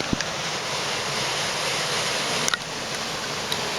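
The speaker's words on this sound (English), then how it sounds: "right now we're at a waterfall, and it's a very simple waterfall." A simple waterfall near Sokcho, South Korea, gives a steady, loud rush of falling water that holds constant throughout, with a few faint clicks and no voices.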